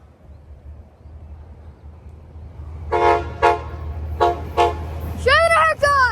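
An equipment train's horn at a railfan spot sounds in several loud blasts, two short pairs followed by a longer closing burst, over a low engine rumble.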